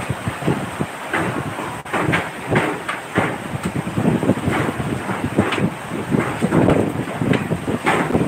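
Strong gusts from Typhoon Odette batter the microphone near the sea, a loud roaring buffeting that surges and pulses continuously.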